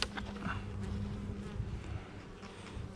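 A dense, steady hum of many honey bees buzzing together in a hive, droning continuously at close range with no voices.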